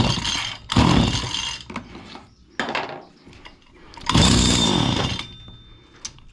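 Small two-stroke engine of a Stihl FS85 hedge trimmer, choked during carburetor troubleshooting, sputtering to life in several loud revving bursts separated by short pauses, close to the listener.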